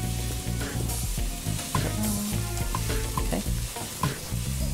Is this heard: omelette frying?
yes